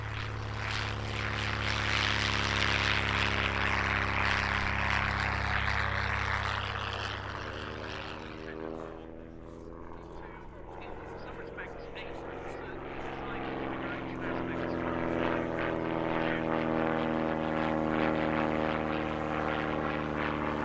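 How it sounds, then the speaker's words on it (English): A Fairchild Argus, a 1930s propeller monoplane, performs at an English country airshow, its piston engine drone loud and steady as it passes, fading slightly midway then building again with a rising and falling propeller tone, with commentary over it. "The Fairchild Argus next, a rare airshow performer which first flew in 1932."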